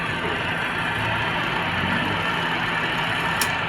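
Fujidenso spin dryer motor with a replaced timer whirring steadily, a continuous close hum with a brief click near the end, no voices.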